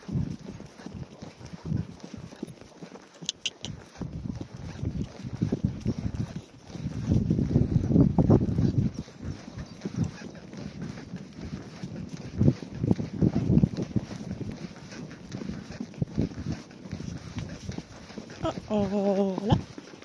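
A pony ridden with a rope halter clip-clops in uneven hoofbeats over ground, with wind buffeting the microphone and a person speaking near the end.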